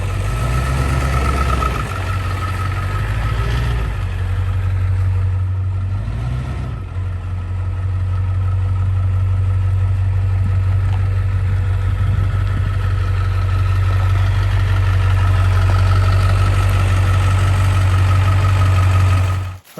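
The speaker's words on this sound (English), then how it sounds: "definitely a bit of a cold start there in the Excursion, but she's running" A Ford Excursion idles steadily after a cold start, a loud, close, continuous low rumble with a slight roughness and a brief dip early on before settling into an even drone.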